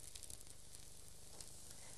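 A very thin, lacy pancake fries in a frying pan, giving a steady, faint, continuous sizzle with no voices over it.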